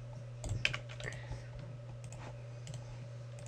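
A computer keyboard shortcut pressed during Sony Vegas 7 editing: a few quick, close clicks near the start, then faint scattered taps over a steady low hum of the computer.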